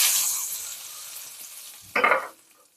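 Hot tempering with curry leaves poured into eggplant chutney bursts into a sharp, loud sizzle after a steady background frying hiss, then quickly fades, with no talk.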